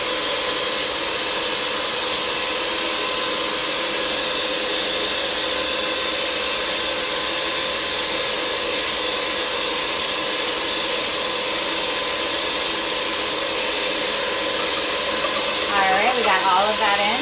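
An electric mixer whisks cake batter with a steady, loud motor whine and a broadband whirr, running continuously with a brief shift in tone near the end as ingredients are added.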